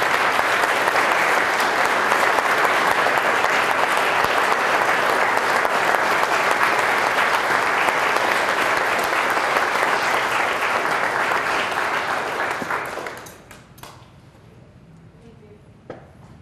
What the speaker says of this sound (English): One more round of applause for this team of folks